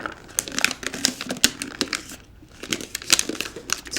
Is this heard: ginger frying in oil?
no